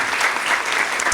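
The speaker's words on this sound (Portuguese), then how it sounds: "Palmas, gente." A seated audience breaks into applause after a sociology talk, a dense and even wash of many hands clapping close by for the whole short moment.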